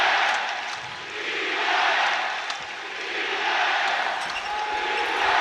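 A basketball arena crowd chants defense in a loud, swelling rhythmic roar that rises and falls in waves, filling the space with massed voices.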